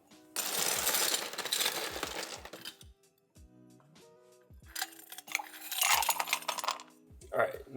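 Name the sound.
ice being added to a coffee cup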